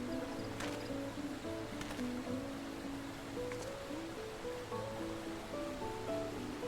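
Rushing water from a massive water wheel in Final Fantasy XV makes a steady, moderately faint wash beneath soft game music, with no voices.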